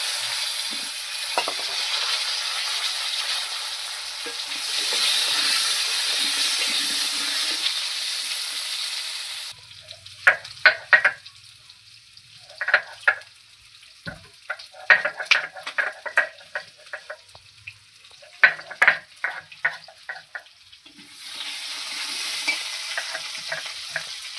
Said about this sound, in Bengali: এবার একটা লঙ্কা দিলাম, জিরে দিলাম, আলু দিলাম। আলু কটা ভাজে